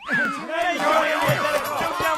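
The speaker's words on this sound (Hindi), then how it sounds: "चलो पतलू, अब उस भीड़ से निपटते हैं।" An angry cartoon crowd in the Motu Patlu series: loud, dense overlapping shouts and babble from many voices, continuous through the whole short stretch with some voices rising above the rest.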